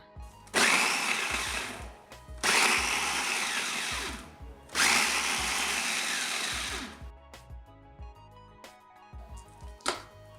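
An electric chopper grinding dried shrimp whirs loudly in three separate bursts of grinding, each lasting a couple of seconds, followed by quieter clatter and a brief final buzz.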